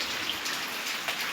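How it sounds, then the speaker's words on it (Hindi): Heavy rain pours down on a house that is flooding, a dense, steady hiss with individual drops splattering close by. No one speaks. "बारिश बहुत तगड़ी हो रही है। ये देखिए पूरे घर में पानी भर गया है।"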